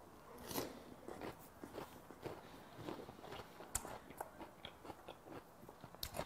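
Someone bites into and chews a Korean melon (chamoe) close to the microphone, making a series of quiet, crisp crunches at an irregular pace.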